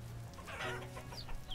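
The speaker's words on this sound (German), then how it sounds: "Hühner!" Chickens cluck softly in the video game Vintage Story, a few brief clucks over a low ambient game background, faint and close.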